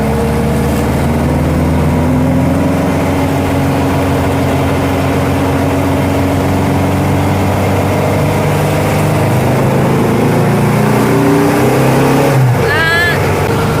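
A Baja Bug's engine drones steadily while the car is driven on a cold, foggy commute. The low rumble holds throughout, rises slightly in pitch near the end, and ends with a brief rattling burst.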